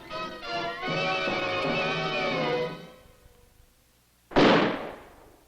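A single sharp gunshot bursts out loud and close, then decays quickly. Just before it, a sustained, wavering tone fades away into near silence.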